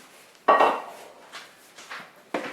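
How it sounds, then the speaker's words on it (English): Yogurt ingredients are stirred together in a pot with a utensil, giving several separate clinks and scrapes against the pot: one louder knock, then three fainter taps, with no talking. "We're ready to put this back into the bowl, into the pot, mix them."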